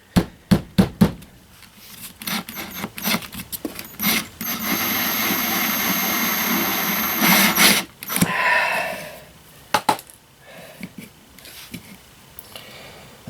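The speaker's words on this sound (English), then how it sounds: "making holes, and then I'm going to go with the carpet knife and punch out in between" Homemade head gasket for a Harbor Freight generator being punched with holes and cut with a carpet knife: sharp knocks and taps, a steady scraping, grinding stretch in the middle, then scattered clicks and thumps, all close and without speech.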